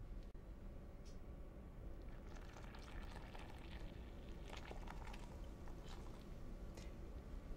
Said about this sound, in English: That's where I'm going to pour those wet ingredients.